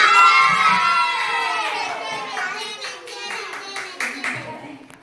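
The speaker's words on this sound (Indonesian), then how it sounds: "Tepuk tangan untuk Aisyah." Schoolchildren in a classroom clap for a classmate, a burst of scattered claps mixed with excited children's voices and shouting that fades toward the end.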